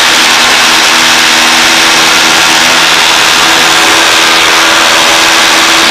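A 180 HP Air Plains light aircraft engine drones loud and constant at full power during takeoff, a steady close-up roar with a strong tonal hum and no speech.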